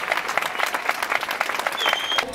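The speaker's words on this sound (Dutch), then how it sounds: "ik wil eigenlijk een heel groot applaus hebben voor deze sportieve jongelui" An audience at a step race in Drunen claps steadily, many hands close by in a dense patter for the whole stretch, with a brief high tone near the end.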